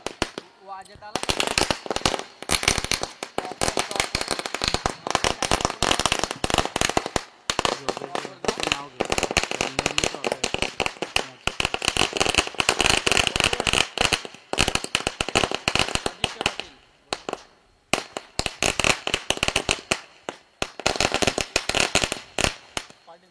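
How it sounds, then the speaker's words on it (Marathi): Firecrackers burst in dense, rapid strings at an outdoor local cricket tournament match in Maharashtra, loud crackling volleys running almost continuously with a few short gaps, while a commentator's voice carries over parts of it. "प्रीतमदादा म्हात्रे साहेबांचं इथं आगमन आणि त्यांचं स्वागत आपण इथे फटाक्यांच्या आतिषबाजीमध्ये करत आहोत"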